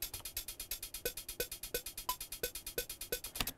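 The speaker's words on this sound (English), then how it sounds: "I've basically just taken all the hi-hats from the original drum riff and just put them into triplets" Electronic drum riff with crisp hi-hats played in a steady triplet rhythm over regular kick and snare hits, looping evenly and fairly loud.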